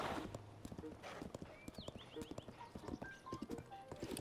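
Horses at a stable in Zelda: Tears of the Kingdom clop along in quick, irregular hoofbeats, with whinnies and bright game chimes over a faint background.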